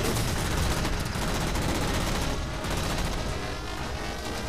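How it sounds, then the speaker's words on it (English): Sustained, dense gunfire from a Halo 4 campaign battle against Knights, with rapid overlapping shots and rumbling booms at a constant loud level for the whole stretch. "gunfire"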